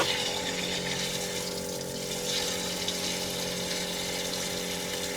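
Water rushing out of a Hewescraft boat as it drains, a steady, loud gushing flow like a pump discharge that carries on without a break and with no talk.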